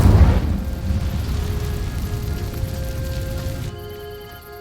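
An Incendio fire spell setting dry vines ablaze in a video game, opening with a heavy whooshing burst that settles into a steady crackling roar of burning, then cuts off abruptly near the end.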